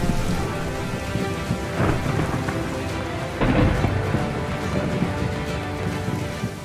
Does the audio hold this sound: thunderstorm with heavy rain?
yes